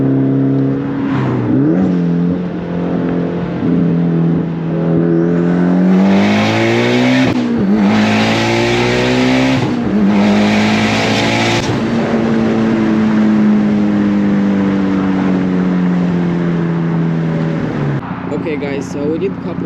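Mitsubishi Lancer Evo X running E85 makes a hard acceleration pull from a second-gear roll, the loud engine climbing in pitch through several gear changes with a brief tire squeal or chirp, heard from inside the car.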